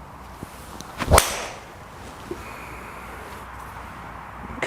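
A Titleist TSi3 fairway wood strikes a golf ball once outdoors, giving a single sharp, loud crack near the start, followed by quiet ambient noise.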